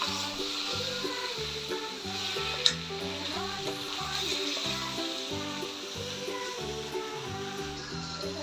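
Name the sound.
chicken frying and being mixed with masala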